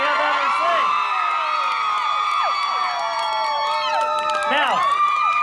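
Enthusiastic crowd at a Hollywood Walk of Fame star ceremony for Pepe Aguilar, a dense, continuous roar of cheering, whoops and high shouts, loud and close throughout with many overlapping voices.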